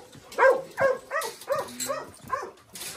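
A pack of mixed-breed dogs, mostly males, barking repeatedly in a loud, uneven series of close yips and woofs, with several animals overlapping.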